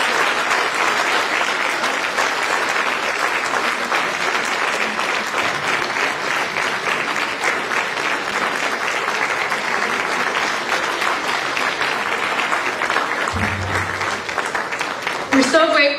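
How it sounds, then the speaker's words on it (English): An audience claps in a big round of applause after a talk, dense sustained clapping filling the hall at full volume, with a voice briefly audible near the end. "let's give them all one big round of applause"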